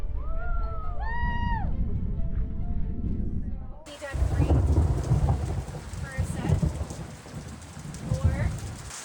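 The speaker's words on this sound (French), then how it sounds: "Mais la pluie s'est abattue sur nous au moment de partir" Heavy rain pours steadily during a thunderstorm in Guatemala, a dense close hiss of drops on surfaces with rumbling thunder, running throughout with some bird or animal calls at the start.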